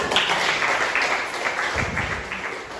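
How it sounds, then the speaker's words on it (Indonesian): Children in a classroom clap together at a teacher's prompt, a steady patter of many small hands at moderate loudness, with a few voices mixed in. "Oke, tepuk tangan dulu ya."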